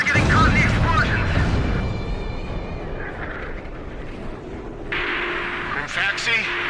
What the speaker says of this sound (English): Friendlies are getting caught in the explosions!